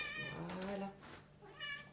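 A house cat meows twice up close, a long wavering cry followed after a short pause by a second shorter call, with a faint voice in the background.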